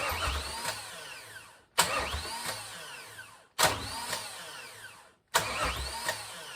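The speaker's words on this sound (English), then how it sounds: "The starter is turning the engine over," A starter cranks the LT1 engine in a 1961 Rambler in four separate bursts, each a whirring spin of roughly a second and a half that cuts off abruptly without the engine catching, close and fairly loud.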